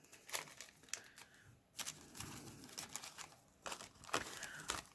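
A plastic bag used to store loose craft glitter is handled close up in a quiet room, giving soft crinkling rustles in short irregular bursts with brief pauses between them.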